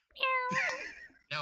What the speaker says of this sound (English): Yes, I know you're purring in my ear.